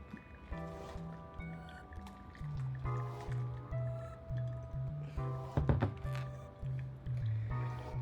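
Water poured in circles over a bed of coffee grounds during pour-over brewing, a soft steady trickle and splash with faint gurgling, fairly quiet and close, accompanied by low tonal hum.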